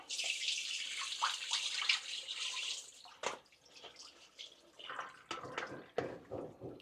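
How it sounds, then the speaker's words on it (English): Cold tap water runs steadily over rice held in a strainer in a kitchen sink, a close hissing splash for about three seconds, then stops, leaving scattered clatter and handling sounds. "run some cold water over the top of the rice"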